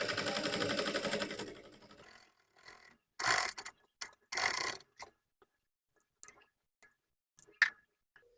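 Sewing machine stitching closed the opening of a fabric bag, a fast rattling run of stitches that slows and stops, followed by a few short bursts and scattered faint mechanical clicks, close and alone.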